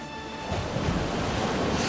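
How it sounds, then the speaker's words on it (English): A tidal bore wave rushes up a river channel, a steady broadband roar of surging, curling water mixed with wind noise, continuous and fairly loud. "you can start to see the tidal bore. You can see the wave curling over."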